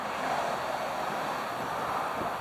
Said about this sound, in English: it was pretty windy out there today